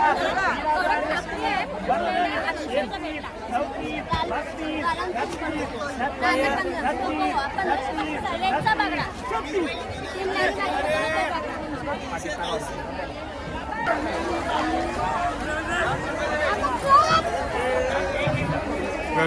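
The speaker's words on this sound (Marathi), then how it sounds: "बघा गर्दी नुसती" Dense crowd chatter fills a busy pomfret fish market auction in Mumbai, many voices overlapping steadily and loudly with no pause throughout.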